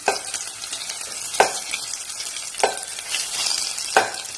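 Capsicum being stirred and roasted in a pan for a curry paste, giving a steady sizzle with a few distinct scraping stirs spaced about a second apart, close and fairly loud, with no talking.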